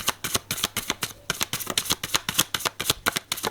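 A deck of cards being shuffled for a reading, rapid rhythmic riffling bursts repeating steadily and close up.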